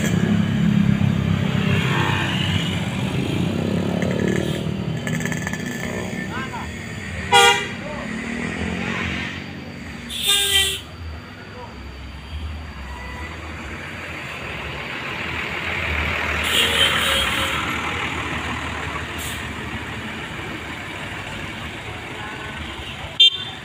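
Tourist buses grind up the steep Tanjakan Setan Cigedan hill in convoy, engines droning loud and close with repeated horn toots, while someone talks over the traffic.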